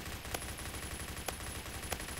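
Rapid automatic gunfire from the first-person shooter Phantom Forces rattles continuously, with a few sharper shots standing out, loud and near, with no voices.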